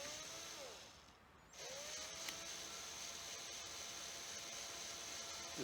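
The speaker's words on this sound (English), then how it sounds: "So 6mm, very gentle this time. No real pressure on the drill at all." A 6mm drill bit bores gently through a hole with almost no pressure while fitting a side puller kit, giving a steady close whine that pauses briefly and then runs on.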